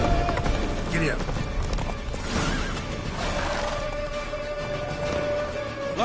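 Horse hooves clip-clopping at a run in The Witcher 3, a steady galloping rhythm under game voices and music.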